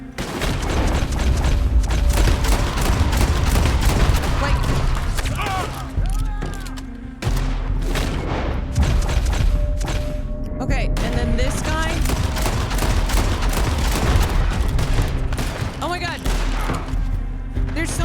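Dense video-game gunfire in a Western-style shooter, rapid shots and booms layered continuously over the full stretch, with people talking over the action and a steady game backdrop.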